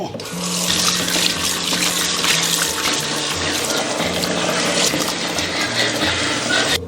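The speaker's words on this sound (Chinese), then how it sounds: "我们给它捞起来，淘洗干净" Beef brisket rinsed under warm running water from a kitchen tap, a steady close splashing gush into the sink that continues unbroken throughout.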